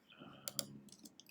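Quiet typing on a computer keyboard during coding, a quick irregular patter of soft key clicks with a couple of sharper taps, faint and close, with no talk.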